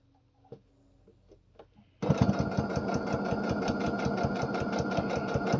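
Sewing machine stitching fabric for homemade baby toys, starting abruptly after a few soft handling sounds and then running fast and loud with a steady, rapid mechanical rhythm close by.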